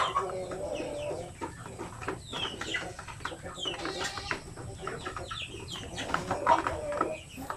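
Backyard pet chickens clucking and murmuring close by, with short repeated calls overlapping throughout amid outdoor ambience.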